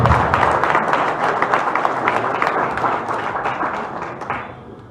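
Crowd applause at a football federation election list announcement, loud dense clapping right away that gradually thins and softens toward the end.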